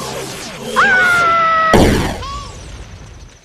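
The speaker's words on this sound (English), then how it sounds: "it starts firing lasers at Link. And once it's defeated, it crashes to the ground in a horrible fiery explosion!" An enemy in a Legend of Zelda video game fires with a rising electronic laser whine, then a sudden burst of crashing explosion noise follows and fades into a faint trailing tone.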